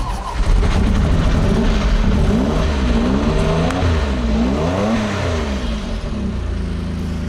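A Jaguar XJ220 engine fires up and revs repeatedly, the pitch swooping up and down in a loud, steady growl close by.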